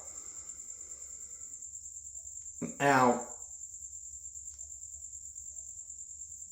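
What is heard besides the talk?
crickets chirping loudly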